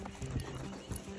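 A few faint hoof clops from horses on a countryside trek sound at a distance, soft and sparse, with no talking.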